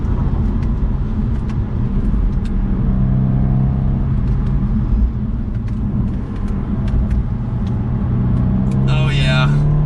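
Steady engine rumble heard from inside a moving 2022 BMW 230i coupe, droning continuously with a faint rise toward the end as it accelerates.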